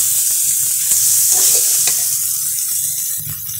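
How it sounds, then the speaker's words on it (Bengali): Bay leaves and spices sizzle and fry in hot oil for a fish dopiaza, a steady close crackle with light stirring scrapes and no talk. "এখন কয়েকটা তেজপাতা দিয়ে নিলাম"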